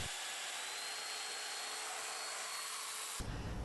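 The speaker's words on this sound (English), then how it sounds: "and then cut the mortises with the domino" Domino joiner plunging mortises into walnut coffee table dividers, a steady high-pitched whine with broadband cutting noise held for about three seconds, then an abrupt stop into a lower rumble as the tool winds down.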